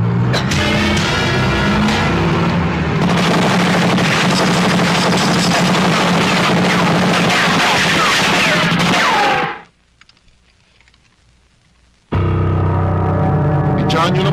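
Rapid, loud gunfire fills an action movie shootout at close range, sustained bursts over several seconds before a sudden near-silent gap, then the dense firing resumes.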